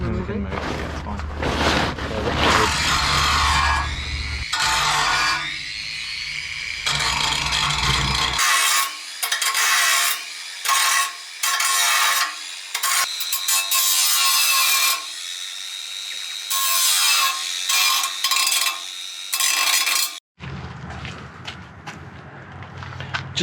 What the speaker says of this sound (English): Just cleaning up the welds a tiny bit.